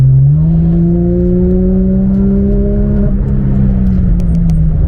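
A Porsche 991 GT3 engine pulls hard on the Nürburgring during a Touristenfahrten session, its loud, steady tone climbing smoothly through one long rev that dips briefly, then keeps droning close by with no talk.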